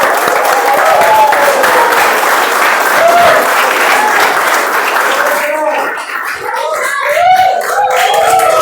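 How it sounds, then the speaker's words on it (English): Audience at a Toastmasters table topics contest applauds warmly as the contest master is welcomed on stage, a dense sustained clapping that thins and softens near the end, with voices mixed in. "With huge round of applause, let's welcome Toastmaster Whitefield Suresh."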